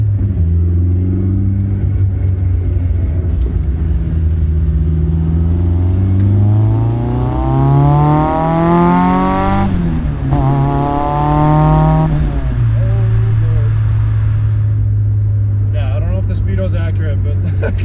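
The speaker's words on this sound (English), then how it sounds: "next up I think we're gonna tackle this exhaust rattle because it is bugging me" A Toyota AE86 GTS engine drones and revs while driving, its pitch climbing and dropping through gear changes, with a constant rattling buzz from an exhaust rattle.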